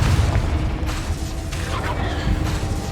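A Confringo spell explosion in the video game Hogwarts Legacy, a loud rumbling boom with crackling debris that stays dense and sustained for the whole moment, with no voice over it.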